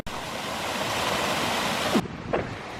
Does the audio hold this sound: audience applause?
no